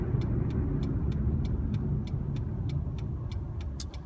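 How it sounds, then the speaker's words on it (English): Car traffic on the Beltway, a steady low rumble of passing vehicles with a faint regular ticking above it. "I guess traffic on the Beltway must be backed up."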